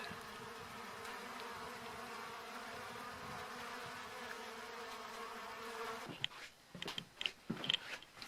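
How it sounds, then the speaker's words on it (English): Bees crowding a backyard water spot give a steady, close insect hum for about six seconds, then the drone gives way to scattered clicks and rustles near the end. "I didn't know how many bees there really was around here."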